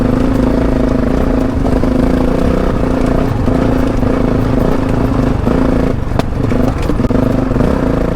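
Off-road motorcycle riding a muddy, rocky trail in France: a loud, close, steady engine drone with rough clattering from the terrain and small throttle changes, continuous throughout without talk.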